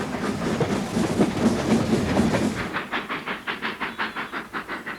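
A 1923-built steam locomotive, the first to reach 100 miles an hour, roars past at speed and then settles into a steady, rhythmic chuffing exhaust with a hissing edge, loud and fairly near.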